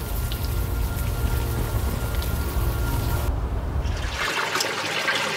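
Steady, dense rainfall in a scene from the video game Unavowed, a loud even hiss of drops pouring down without pause and no voices, then thinning to a softer patter near the end.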